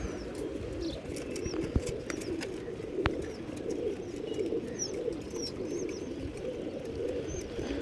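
Racing pigeons coo softly and repeatedly on a rooftop over a steady outdoor hum, with occasional small chirps and faint wing flutters in the distance.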